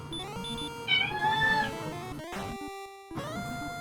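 Meowing cat sound in a Dragon Warrior randomizer tournament stream, a brief rising cry layered over chiptune game music and beeps, moderately loud for about a second.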